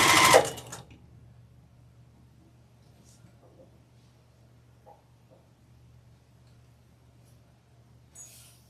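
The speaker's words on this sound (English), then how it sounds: "we're going to sew on both sides of this line here" A sewing machine stitches quilt fabric in one short, loud burst at the very start, then falls away to a faint steady hum with a few small clicks and a brief rattle near the end.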